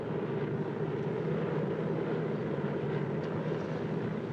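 DC-3 airliner engines droning in flight, a steady, full, continuous low roar from inside the cabin with no voices.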